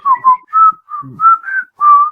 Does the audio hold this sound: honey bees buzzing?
no